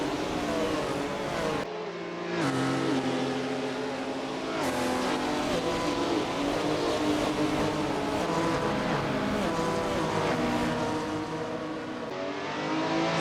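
Formula One race cars from 1956 at the French Grand Prix roar past continuously, their loud engine drone holding steady with a few short breaks and shifts in pitch.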